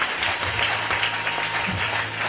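A church congregation at a testimony service applauds, a dense, continuous clapping that stays steady and fairly loud for the whole stretch, with no voice standing out above it.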